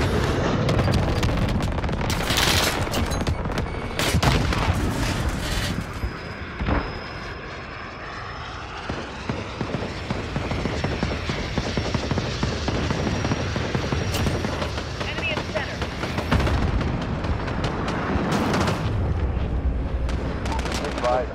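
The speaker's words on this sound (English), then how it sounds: "Call for fire on this target." An artillery strike lands on a target in a tactical military video game, with heavy booming impacts and a droning aircraft-like roar swelling and fading, while voices talk over the action.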